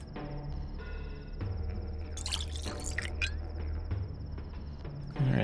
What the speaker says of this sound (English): I guess let's fill our bottles up